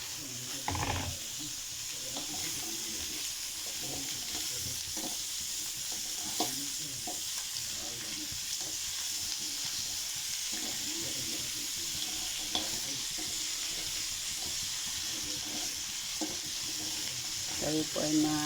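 Papaya pieces sizzle steadily in a pan while a utensil stirs and scrapes them now and then, a quiet, continuous frying hiss with occasional clinks.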